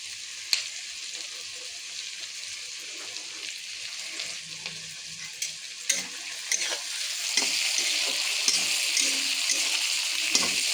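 Onions fry in a pan before meat goes in, a soft sizzle with intermittent stirring knocks and scrapes that swells into a louder, steady hiss toward the end.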